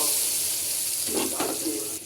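Ground spice paste dropped into hot oil in a pan after frying eggs, a loud sizzle that flares briefly midway and then settles, heard close with no speech.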